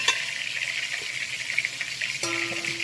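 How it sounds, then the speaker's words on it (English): Fish for Jamaican brown stew fish sizzles steadily in hot oil in a pan, a close, continuous frying hiss with a brief clatter near the end. "this is how we fry the fish"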